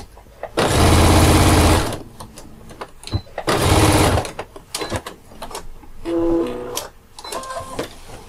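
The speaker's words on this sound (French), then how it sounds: "maintenant on va coudre les bords" A sewing machine stitches along the edges of a backpack in two loud, steady runs of about a second each. Quieter handling clatter and fabric shuffling fill the gaps between the runs.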